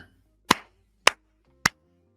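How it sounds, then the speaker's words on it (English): Three sharp, loud hand claps, evenly spaced about half a second apart, close and alone against near silence. "I'll give you a hand clap."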